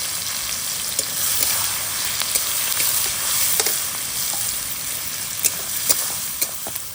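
Onions dropped into hot oil with cumin and garam masala over a campsite fire on a secluded island give a steady, close sizzle, joined by scattered scraping stirs and a few sharp crackles.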